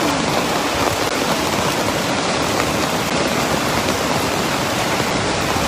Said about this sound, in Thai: วันนี้นะคะฝนตกมากๆ